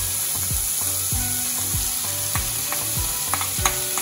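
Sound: stirring honey chilli potatoes frying in a pan

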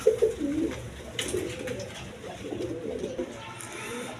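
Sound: Indian Kaldom pigeons cooing

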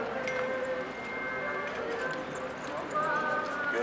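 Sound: Akhal-Teke horse hooves clip-clopping

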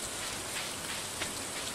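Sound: rain in the video game Stardew Valley

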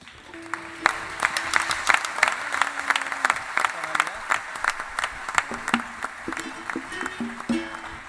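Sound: theatre audience applauding the musicians

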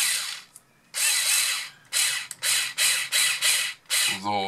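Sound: cordless drill driving screws on Team C GT8 RC car

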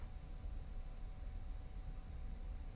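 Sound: Tu-22 bomber aircraft taxiing down the runway

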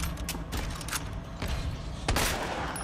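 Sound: gunfire at Mr. X in Resident Evil 2 video game

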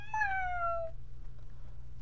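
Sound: cat meowing in video game Fortnite

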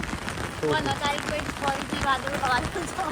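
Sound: rain falling

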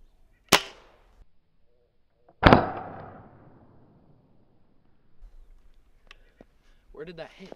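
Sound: pellet gun shot at a squirrel

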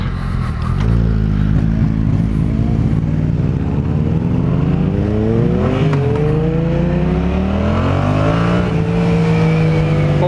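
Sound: 2015 Yamaha FZ-07 motorcycle engine revving during test ride

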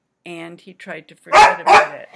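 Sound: dog barking

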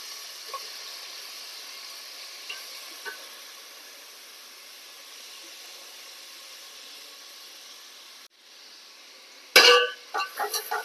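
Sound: chopped onions frying in coconut oil

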